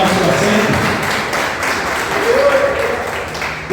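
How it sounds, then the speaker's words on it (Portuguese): A church congregation claps together during a Portuguese-language service, a fairly close burst of applause that dips and swells over a few seconds while a voice speaks over it. "vamos aplaudir ao Senhor."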